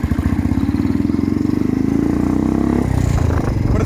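Motorcycle fitted with a Red Rooster Performance aftermarket exhaust pulling in first gear, a loud, close, rapidly pulsing exhaust note that climbs steadily in pitch before dropping off near the end.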